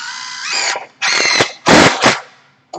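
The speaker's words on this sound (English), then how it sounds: "Get a drill and just put a screw in it for me." A power drill driving a screw into wood fascia at a hands-on construction site, three loud whining bursts with rising pitch, separated by short pauses and close up.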